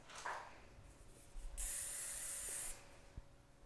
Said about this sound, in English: And then we're going to take some Strong Hold hairspray.